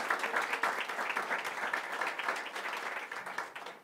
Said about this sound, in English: Another big round of applause for T. Rowe Price and the T.